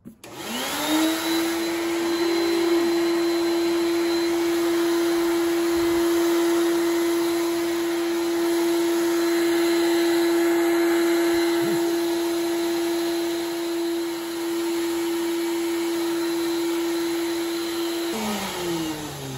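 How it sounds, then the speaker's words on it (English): A power vacuum drying a vinyl record roars steadily at close range with a high whine for about eighteen seconds, then cuts off. "You're gonna wanna shove a power vac into a hole like that. And we're gonna turn it on."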